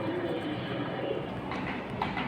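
Pigeons in a crowded pigeon market, a dense steady murmur of cooing and chatter from many birds with a faint mechanical rumble underneath.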